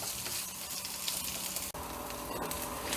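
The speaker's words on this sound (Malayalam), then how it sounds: "അപ്പോൾ അത് ഇതിലിട്ട് നന്നായിട്ടൊന്ന് വഴറ്റിയെടുക്കുക" Sliced small shallots sauté in a pan with an even, continuous sizzle and crackle, close and moderately quiet, with one brief dip partway through.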